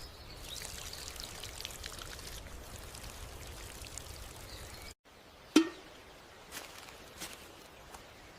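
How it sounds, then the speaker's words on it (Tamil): Water is poured from a container onto garden soil in a small vegetable plot with tomato and okra beds, giving a soft, steady stream for several seconds that then stops, followed by a few faint splashes and taps. "கொஞ்சம் தண்ணீர் ஊற்றிடலாம்"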